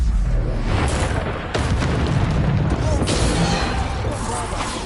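Bombarda blasting spells boom repeatedly in the video game Hogwarts Legacy, a dense run of loud explosive bursts and crashes with sharp onsets near one and three seconds amid continuous chaotic combat noise.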